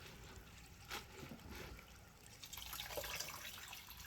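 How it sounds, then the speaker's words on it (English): Water trickles and drips steadily off wet bedding material into a worm bin for blue worms, a soft continuous running sound close by with small splashes, quiet and without talk. "Let the water run off of it."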